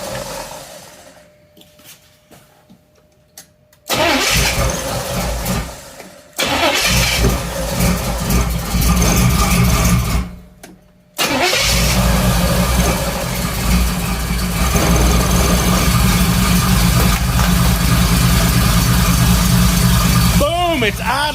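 An 86 IROC Camaro engine cranks and stumbles in a few bursts, cuts out, then catches and settles into a loud, rough, steady idle close by, with people talking at times.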